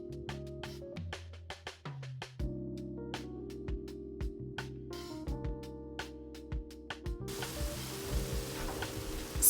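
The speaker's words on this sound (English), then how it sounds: "So now I'm gonna add some condensed milk." Condensed milk is poured into mithai sizzling in a pan, giving a steady soft frying hiss broken by faint clicks and light scraping, quiet and close with no talk.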